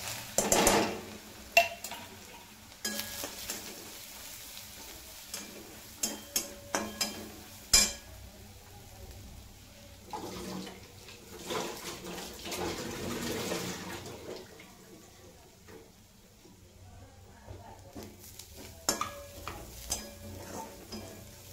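Coconut paste ground from raw coconut, with cumin, is stirred and roasted in a pan for a brinjal-potato dish; a spoon scrapes and knocks against the pan in irregular clatters over a soft, steady sizzle, with no talking.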